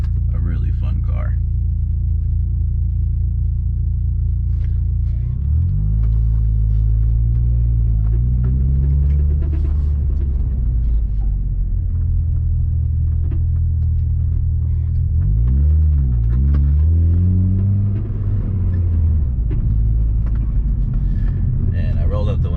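A small car driving with windows up, heard from the cabin: a low engine drone that twice climbs in pitch as it accelerates through the gears, with a few faint rattles along the way.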